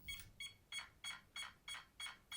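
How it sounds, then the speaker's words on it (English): A rapid string of seven short electronic beeps, evenly spaced and fairly loud, with no talking: a brushless sensored ESC in a Kyosho Turbo Optima RC car entering setup mode. "Red flashing LED and beeps means the ESC is in setup mode"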